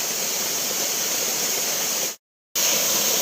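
A waterfall in a deep forest roars as a dense, steady rush of falling water. It cuts out to brief silence near the end and then returns at the same level.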